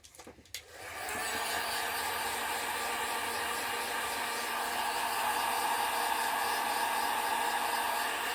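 A hot air dryer heat-setting paint on a crankbait fishing lure: a few handling clicks, then the blower switches on into a loud, steady, even rushing whoosh that holds to the end.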